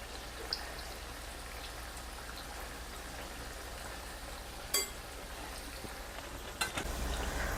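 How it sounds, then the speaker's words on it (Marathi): Moong dal mathari fry in oil over a low flame with a soft, steady sizzle and a faint crackle, quiet and close, broken by a couple of brief louder clatters. "मंद आचेवरच आपल्याला या तळून घ्यायचे"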